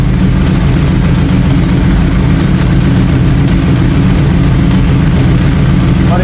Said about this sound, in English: Did give it a little bit of throttle when it first fired up.